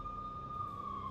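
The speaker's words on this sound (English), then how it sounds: "I could hear the sirens. Their wail was a crescendo." Police sirens wail in the game Max Payne, a steady drawn-out tone that holds and slowly drifts over a low rumble, as police close in on a slum tenement hotel.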